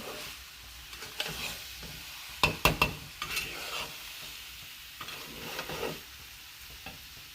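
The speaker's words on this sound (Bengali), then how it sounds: "এবারে আমি জল দিয়ে দেব, পরিমাণ মতন জল দিয়ে দেব" Water poured into a pan of frying masala soybean curry sets off a sudden loud sizzling burst, then the pan settles to a softer hiss with occasional stirring scrapes.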